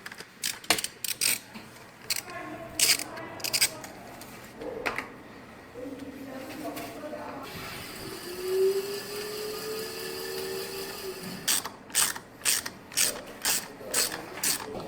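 Tightening a caliper mounting bolt on a car brake while the wheel is spun, giving bursts of ratcheting clicks from a wrench between stretches of whirring, scraping mechanical motion, close and moderately loud.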